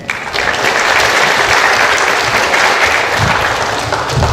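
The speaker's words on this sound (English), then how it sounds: "quick round of applause to Mr. Muncher who could make it today" A concert audience applauds a percussion teacher at a spring ensemble concert, a dense, steady wash of many hands clapping at once, loud and sustained throughout with no pauses.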